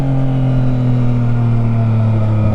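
A Yamaha Tracer 900 motorcycle with a full Delkevic exhaust drones loudly and close at steady high revs, its low engine tone holding a constant deep hum throughout with no pauses.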